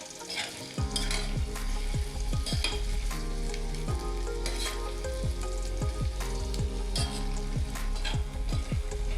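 Brain fry with garam masala and fresh coriander being stirred in a pan, a steady sizzle under repeated scraping strokes of a spoon against the metal, close and continuous with no voices.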